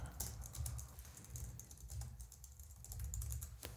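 Quick, steady keystrokes on a computer keyboard while a message is written, close and fairly quiet, with no talking.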